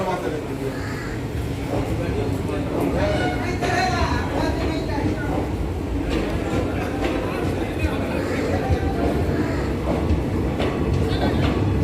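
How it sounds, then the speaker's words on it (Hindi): An Intercity Express train pulls out of platform 1 at Saharsa Junction, India. Its low rumble and clatter sit under constant crowd chatter, nearby voices and busy platform noise. "प्लेटफॉर्म संख्या 1 से अभी खुली है ट्रेन।"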